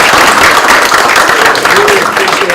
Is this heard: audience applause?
yes